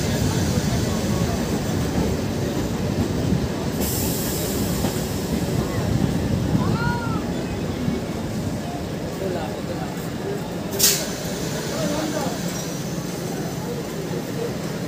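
A local train on the Ranaghat–Gede line pulls into Bagula station, its steady loud rumble running throughout, with a brief squeal of wheels and a sharp hiss near the end as it slows.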